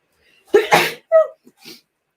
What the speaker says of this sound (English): I have a sneeze sneaking up on me.